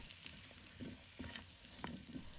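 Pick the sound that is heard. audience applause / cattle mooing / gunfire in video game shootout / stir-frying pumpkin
stir-frying pumpkin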